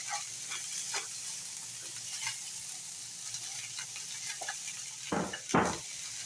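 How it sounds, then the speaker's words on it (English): Cold rice stir-fried in a pan for fried rice, with a steady sizzle and intermittent scraping and clinking of a utensil stirring, louder scrapes near the end. "we're going to add the rice in."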